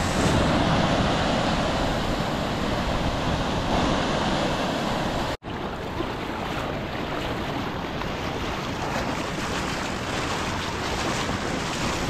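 Surf breaking on a Gulf Coast beach, a continuous loud wash of churning waves mixed with wind buffeting the microphone, with one brief dropout midway.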